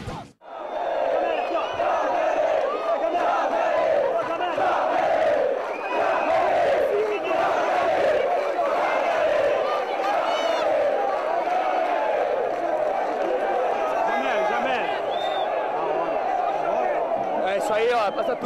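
Santos football fans in a stadium crowd chanting and cheering, a loud, dense roar of many voices that holds steady throughout, with rising shouts in places.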